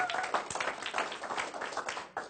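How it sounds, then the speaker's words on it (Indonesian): Audience applause at a business presentation for a health-supplement company, a dense run of many hands clapping that stays steady and fairly loud for the whole stretch. "Tepuk tangan buat Anda semua, Bapak Ibu."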